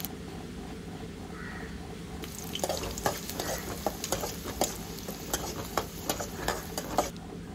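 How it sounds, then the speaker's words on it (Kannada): Onions frying in a few spoonfuls of oil give a close, steady sizzle. About midway a spoon starts stirring, adding a quick series of rhythmic scrapes and clacks against the pan. "ಹಾಗೂ 2 ಈರುಳ್ಳಿನ ಹಾಕಿ ಇದನ್ನು ಸ್ವಲ್ಪ ಫ್ರೈ ಮಾಡಿಕೊಳ್ಳಿ."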